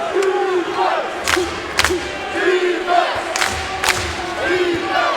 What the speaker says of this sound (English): That one was an air ball. The crowd here in Spokane lets him know.